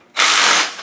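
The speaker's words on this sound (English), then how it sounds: "So then we take the perimeter bolts off and that cover should just come right off" Ratchet backing off a perimeter cover bolt on a 2010 Yamaha YZ450 engine, a single short, close burst of rapid clicking lasting under half a second.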